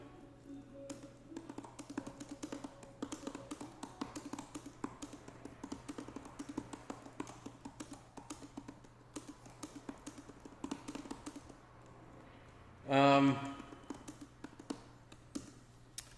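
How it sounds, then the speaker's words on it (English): Typing on an Apple Magic Keyboard for the M4 iPad Pro, a dense run of light, quick clicking keystrokes in irregular bursts, fairly close, with one brief louder tone partway through. "I don't know that the key travel is as good on this model as the previous Magic Keyboard"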